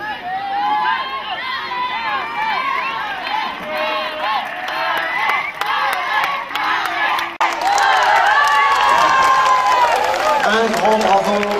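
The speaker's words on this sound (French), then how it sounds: "Sous les applaudissements" A crowd at a municipal swimming pool cheers and claps for a dive, a lively roar of shouting voices and children's cries with applause building louder in the later seconds.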